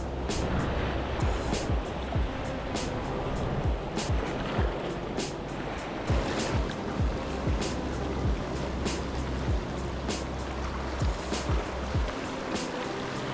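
Ocean waves wash continuously onto a beach during bread-bait fishing, with steady broadband surf noise and repeated soft splashes close by, and no talk.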